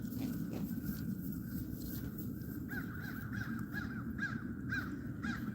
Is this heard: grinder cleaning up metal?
no